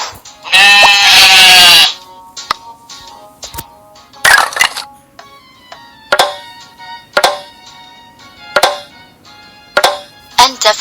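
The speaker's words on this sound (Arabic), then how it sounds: "خروف." A sheep lets out one loud, quavering bleat near the start, followed by a series of sharp clicks and short bright chimes spaced through the rest of the clip.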